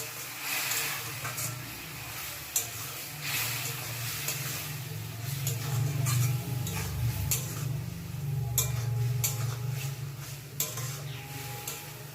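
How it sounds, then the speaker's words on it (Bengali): Ash gourd dolma is stirred in a cooking pot, with a steady low bubbling simmer and scattered light ticks and scrapes of the spoon against the pot. "এখন একটু নাড়াচাড়া করছি।"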